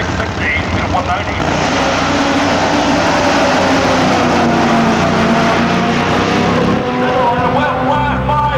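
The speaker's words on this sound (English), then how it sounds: "more nitro burning action here with the Heroes of Top Fuel" Nitro-burning Top Fuel dragsters roar at a drag strip, a loud, dense, unbroken engine blast that fills the whole stretch without letting up.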